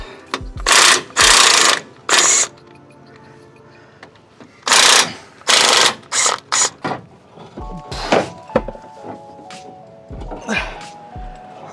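A ratchet works out the last steering box bolts on a 2003 Ford F-350, giving loud bursts of rapid clicking, then quicker, lighter ratcheting strokes mixed with metallic clunks. No one speaks.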